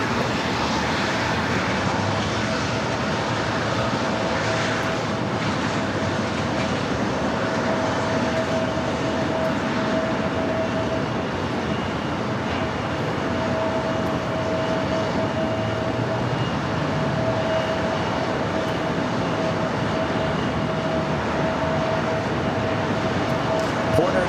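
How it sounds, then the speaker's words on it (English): A Porter Embraer E2 jet rolls down runway 25 right at Los Angeles International Airport, a steady broad engine roar with a faint high whine held throughout at a moderate distance. "Porter, the E2 now rolling down 25 right, heading back to Toronto."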